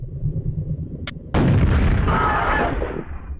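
A rocket explosion in Quake 64 bursts in with a loud, broadband roar that starts abruptly and holds steady for about two seconds over a low game rumble, with a brief sharp pop beforehand.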